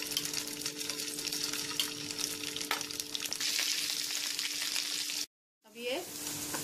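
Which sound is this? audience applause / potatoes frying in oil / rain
potatoes frying in oil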